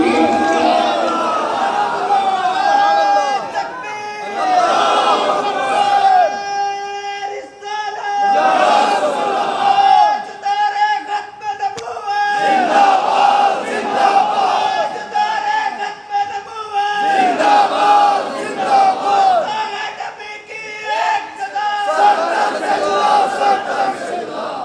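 A large religious gathering chants slogans in loud unison, with repeated rhythmic bursts of many voices separated by short pauses and a leader's calls between them.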